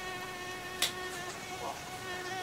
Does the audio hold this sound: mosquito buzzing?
yes